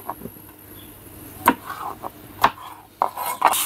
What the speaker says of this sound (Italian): mi taglio dei datterino che in precedenza ho lavato a metà e li lasciamo qua dentro